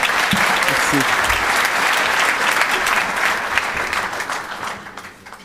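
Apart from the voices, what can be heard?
applause for the national secretary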